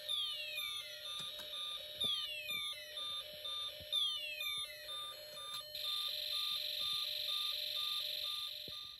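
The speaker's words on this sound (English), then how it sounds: "the speaker will make sounds of an ambulance siren, along with the happy birthday song and space war sounds" Electronic tones from a Snap Circuits toy speaker: repeating descending space-war laser zaps and steady beeping pulses, then a warbling ambulance siren tone, fairly loud and continuous.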